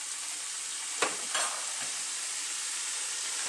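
Chili flakes sizzle in a hot pan while making a healthy pasta, giving a steady close frying hiss with a couple of brief scraping stir sounds near the start and no talking.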